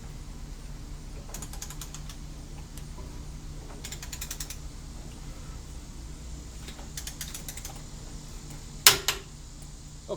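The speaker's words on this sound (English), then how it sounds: "it just clicks like a normal torque wrench" A torque wrench on Chevy Tahoe shock bolts set to 59 foot-pounds gives quick bursts of ratcheting clicks, several short clusters spread through the span, fairly faint and close against a low steady hum, with a sharper clack near the end.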